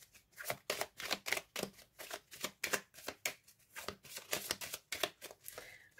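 Tarot cards shuffled by hand in quick, crisp riffling bursts, a close, quiet series of papery flicks and slaps in an irregular rhythm with no talking.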